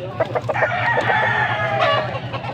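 Black McRae gamecock at a summer sale, one rooster's crow rising over a busy background of clucking fowl and crowd murmur, close and fairly loud.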